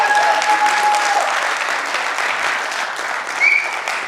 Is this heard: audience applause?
yes